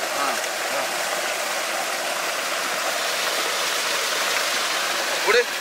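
Water flows and splashes steadily as mole crabs are rinsed to wash off sea sand, a constant close rushing sound with a faint voice underneath.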